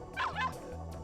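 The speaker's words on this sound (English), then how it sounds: "Pippi looked at Hokuto and me, then gave a loud bark." A dog gives a loud, yipping bark in the visual novel game Ever17, a short burst of two quick yelps over a steady low background hum.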